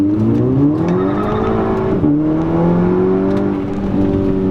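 An APR-tuned turbocharged Volkswagen GTI engine pulls hard under acceleration, with a brief whooshing blow-off valve release between shifts, loud and close.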